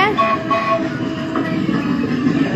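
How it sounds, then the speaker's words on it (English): A small train moves along at a holiday resort park, giving a steady rumbling roll with faint clatter throughout, close by, with some background voices. "Do the train, you like the train moving."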